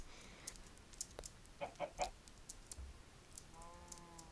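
Minecraft chickens clucking softly in a short run of quick, faint clucks over low background noise, followed by a brief higher chirping sound.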